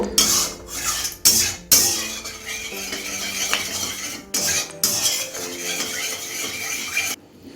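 A utensil scrapes and stirs sugar melting in hot oil in a pan for a chicken kala bhuna, with repeated rasping metal-on-pan strokes and soft sizzle, close and steady, no talk.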